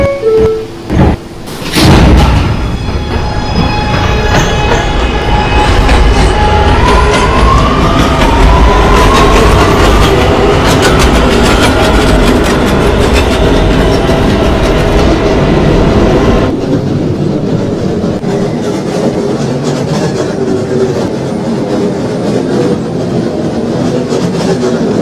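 A New York subway A train runs at speed on the late-night C line route toward 207th Street, a loud steady rumble with rail clatter, a sharp bang near the start and a drop in level past the midpoint as it rolls on.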